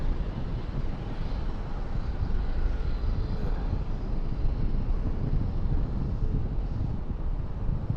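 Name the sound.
American Airlines Boeing 777-200 landing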